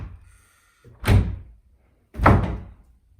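A closet door in a Nairobi home that doesn't close properly is pushed shut twice, two dull thunks about a second apart after a faint rattle, with no talking.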